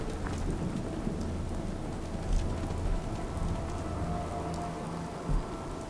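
Rain falls steadily in the video game Fallout 4, a dense, even hiss with scattered patters and a low rumble like distant thunder, heard alone without speech.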